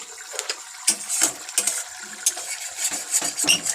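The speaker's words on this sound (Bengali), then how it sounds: "দিয়ে একটু নাড়িয়ে নেব।" Chicken being stirred with spices in a pan, a spoon scraping and clinking against the metal in irregular close bursts, with no voices.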